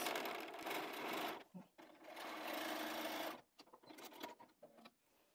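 A sewing machine runs in fast bursts stitching a seam on a four patch quilt block, with short pauses between runs and a person speaking softly over it.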